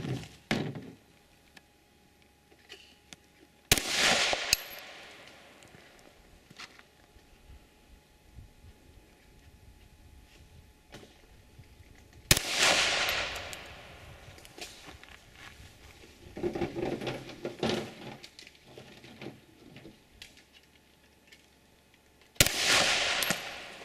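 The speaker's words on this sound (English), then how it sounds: "This is probably the best firearm ever invented." A firearm fires three loud, sharp shots spread well apart, each with a reverberant tail, while quieter handling clicks and thuds fill the gaps between them.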